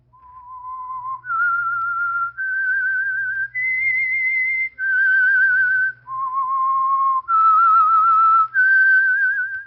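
A person whistles the eerie theme tune of The Whistler radio show, a slow melody of eight clear, sustained notes that climb and fall, pure-toned and close, with faint hum underneath and no voices.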